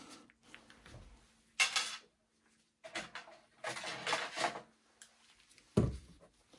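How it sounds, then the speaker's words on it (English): Screws being worked loose and lifted out of an HP ProDesk 400 G4 small-form-factor desktop during teardown: scattered light metallic clicks and scrapes with a few louder handling clunks, close and quiet, no talking. "Now what I'll do is I'm gonna go in and move the screws here"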